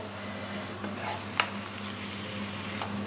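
Thai roti pancake batter folded and cooking in a pan over medium heat, a soft continuous sizzle with a faint hum and a light scrape or tap partway through, quiet and close.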